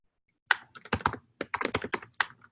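Keys on a computer keyboard clatter in quick, uneven bursts of close, crisp clicks while code is written, with short pauses between runs and no speech.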